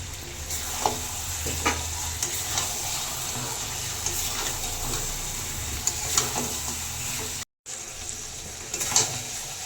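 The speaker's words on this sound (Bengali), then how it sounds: "এবার ভেজে রাখা আলুটা দিয়ে দেবো" Meat sizzles loudly in a pan as pre-fried potatoes are mixed in, with repeated scraping and knocking strokes of a spoon over the steady hiss, interrupted by a short break of silence.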